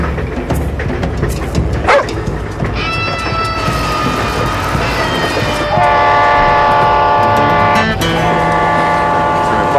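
A moving train in a TV drama scene, with steady rolling rumble throughout and a loud tonal horn-like blast joining partway and holding to the end, close and prominent.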